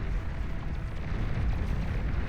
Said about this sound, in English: That's the APHIS over here finally getting detonated.